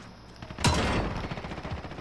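Submachine gun fire in the shooter game Call of Duty: Modern Warfare beta, a sharp loud burst followed by a rapid rattling stream of shots with game ambience underneath.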